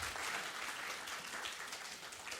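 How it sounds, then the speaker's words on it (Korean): An audience at a lecture-style gathering applauds, a dense, steady wash of many hands clapping that fills the room without a break. "박수 한번 주시면 감사하겠습니다."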